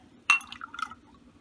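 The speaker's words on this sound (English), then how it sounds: "we're going to just ladle them into the jar" A ladle clinks against a glass jar as homemade yogurt is poured in, giving one sharp clink followed by a few softer glassy taps and a brief liquid pour, close and clear over quiet background.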